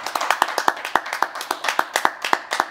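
A small group claps at a farewell symposium, hand claps ringing out close and distinct in a steady, slightly uneven rhythm of sharp individual slaps, with no voices over them.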